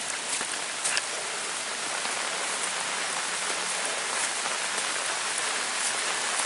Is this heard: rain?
yes